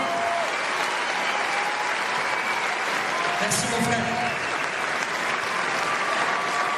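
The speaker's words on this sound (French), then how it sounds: "faites-leur un tonnerre d'applaudissements encore" Thunderous applause fills the hall from an audience at a screening of a YouTuber's Everest film Kaizen, dense and continuous throughout, with someone briefly speaking over the clapping.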